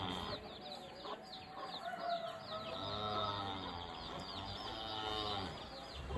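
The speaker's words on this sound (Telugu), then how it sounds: "ఇది కడక్నాథ్ పుంజు. ఈ చిన్న పిల్లలు వచ్చి కడక్నాథ్ పిల్లలు." Kadaknath rooster and chicks on a free-range farm, clucking and chirping calls with cattle lowing in the background, a busy mixed farmyard chorus at moderate distance without talk.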